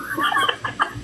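A chicken clucks in a quick run of short, close, moderately loud calls, with no talking.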